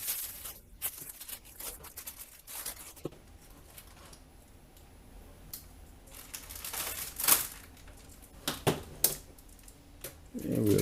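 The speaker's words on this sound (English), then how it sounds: "let's just take everything out of the plastic" Parts of a Neewer NW-7000 USB microphone kit come out of plastic bags, with soft crinkling, rustling and scattered light clicks and taps up close, in bursts with quieter gaps.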